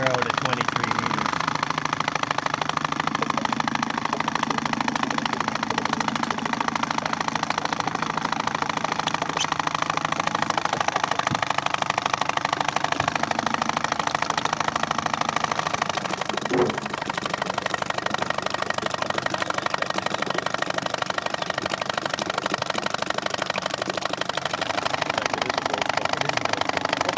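An engine-driven pump vacuums zooplankton from a lake down to 23 meters, its motor chugging in a steady, loud drone with a faint knocking pulse, and voices come and go beneath it.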